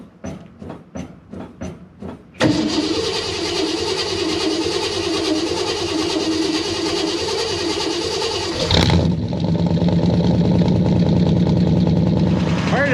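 A car cranks over in a quick series of rhythmic starter pulses after a cold sit, boosted by a FOXPEED 21000 mAh portable jump starter, then catches into a loud steady running idle that shifts to a deeper rumble.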